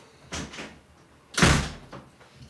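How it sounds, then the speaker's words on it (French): A door slams shut indoors with a sharp, solid bang after a couple of lighter knocks and rattles, and a faint thump follows as it settles. "Il claque la porte"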